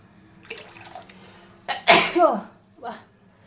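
While spices and ginger-chili paste cook in a pan, a person lets out a loud, sharp sneeze close by, with softer breathy sounds and quiet noises before and after it.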